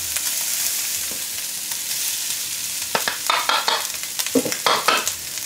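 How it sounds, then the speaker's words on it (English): Fried rice sizzles steadily in a hot pan, with a spatula scraping and stirring in a quick run of sharp clatters toward the end, close and loud with no talk. "Sizzle, sizzle, sizzle."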